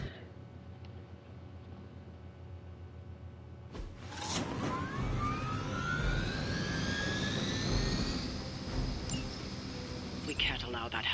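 A helicopter engine in the video game Midnight Suns spins up abruptly after a quiet start, then holds as a loud, rising whine and steady roar with sweeping tones, while voices speak over it.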